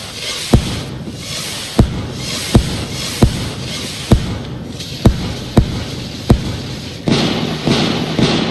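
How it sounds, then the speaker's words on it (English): Rocket fireworks bursting in the game Fireworks Mania: a string of about nine sharp, loud bangs at irregular intervals, with crackling fallout between them and a denser rumble at the end. "once we've had a look at the nice rockets"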